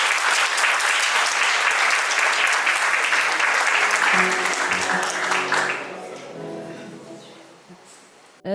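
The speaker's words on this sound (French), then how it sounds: "Un tonnerre d'applaudissements pour Home Exchange." An audience at a coding bootcamp demo day in Marseille applauds a presenting team, loud, dense clapping that fades out over the last few seconds as a voice begins and a sharp sound cuts in at the very end.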